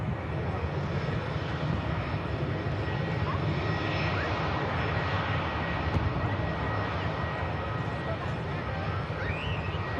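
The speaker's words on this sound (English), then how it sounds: "It's the Saudi flight 123 back from Jeddah. It's a Dreamliner 10." A Saudi Boeing 787-10 Dreamliner on approach to land at Manchester Airport, arriving from Jeddah, gives a steady, broad engine roar that holds at an even level throughout. Some talk is faintly mixed in.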